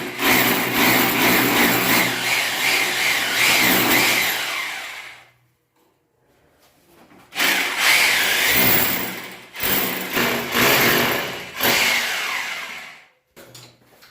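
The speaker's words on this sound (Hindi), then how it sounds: "उसके बाद में हैमर चलेगी।" A hammer drill with a 10 mm bit bores into wall tile while a water heater is being installed: one loud, close, whining run of about five seconds, a pause, then several shorter, forceful bursts.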